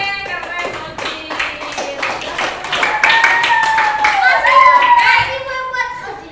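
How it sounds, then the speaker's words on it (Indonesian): A classroom of children does a rhythmic group clap cheer, with sharp, patterned hand claps in quick bursts mixed with children's chanting voices close by. "Tepuk keren buat kita semua ya."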